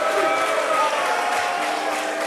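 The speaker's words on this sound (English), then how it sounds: "Half the room's booing because they're nationalists, and the other half are cheering me" A large indoor crowd at a Boys State evening assembly roars continuously, a mix of booing and cheering voices blending into a dense, steady din.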